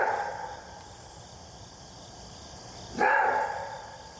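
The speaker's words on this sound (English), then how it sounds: "They also have an interesting call, which is described as a roar bark" Maned wolf giving its roar-bark call: a single loud, hoarse bark bursts out after a stretch of low background noise, then fades over about a second.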